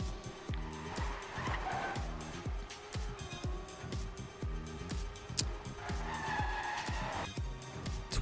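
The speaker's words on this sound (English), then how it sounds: "As we still got 123 players driving in the race." Engines in an online video game race drone and rev in rhythmic pulses, with tire squeals and skids rising over them, loud and steady throughout.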